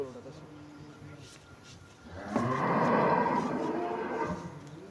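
Holstein Friesian dairy cow being walked at a farm, with talk over the first half, then a loud, sustained low moo that swells around the midpoint and holds to the end.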